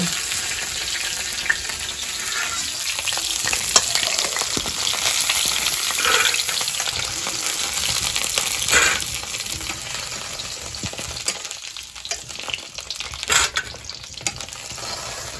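Eggplant curry sizzles steadily in a pan, a loud continuous frying hiss with occasional stirring scrapes throughout, close by and with no voices.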